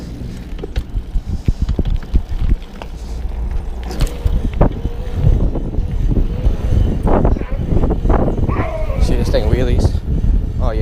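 A 750-watt electric conversion SE bike pulls wheelies outdoors with a steady motor whine and tire rumble throughout, under frequent excited talk and shouting from riders nearby.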